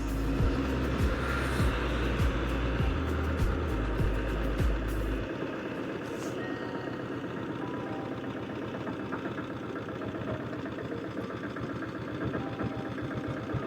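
A 1976 diesel Bullet motorcycle riding along, its engine thumping in a steady loud beat, with a heavier low drone early on that drops away, no talk.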